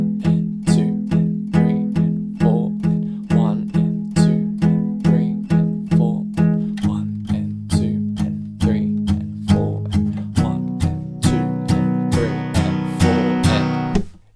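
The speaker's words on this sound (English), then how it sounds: "we're going to hit each chord for 8 palm muted down strums," Guitar chords for a song tutorial played as steady eighth-note palm-muted down strums, eight per chord, a clear even chugging pulse with the chord changing every few seconds, ringing brighter near the end.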